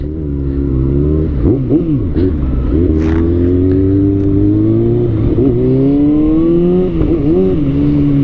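Motorcycle engine ridden through city traffic, loud and steady throughout with repeated revving rises and gear shifts over constant road rumble.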